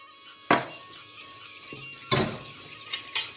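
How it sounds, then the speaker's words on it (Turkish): A metal spoon stirring yogurt in a pot, with a few sharp, close clinks against the pot's side spread over a few seconds and quiet scraping in between. "İyice karıştırıyoruz. Üstü kaymak bağlamayana kadar."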